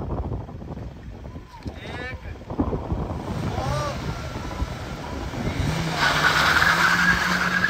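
Hyundai Verna and Mahindra Scorpio launching at the start of a drag race on an empty track, engines rising into a loud roar over strong wind noise, with people talking and shouting over it.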